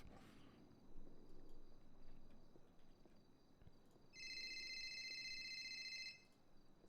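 A telephone rings once as a steady electronic trill lasting about two seconds. It is clear over a quiet, faintly rustling background, with no talking.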